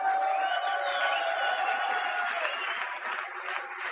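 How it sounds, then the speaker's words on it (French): Sustained audience applause with cheering and a few whoops fills a boxing venue after a fight between two boxers, a dense, steady crowd roar throughout. "une bonne main d'applaudissements pour ces deux guerriers"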